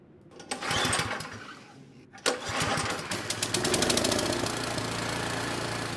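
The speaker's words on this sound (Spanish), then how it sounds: "Ah, este es el motor. Muy bien, jala el motor." A pull-started engine in Outlast 2 sputters, cuts out briefly, then catches again and settles into a steady rapid chugging rhythm, close and fairly loud, with no talk.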